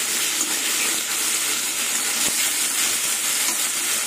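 Raw salted, turmeric-rubbed fish frying in spice masala, a steady, close, fairly loud hiss and sizzle with one faint knock, no voices.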